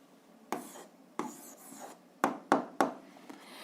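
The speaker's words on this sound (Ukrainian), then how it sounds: "записуємо відповідь, пишемо відповідь" A pen writes down the answer to a school physics exercise in a series of short, close scratchy strokes, some quick and clustered, in a quiet room.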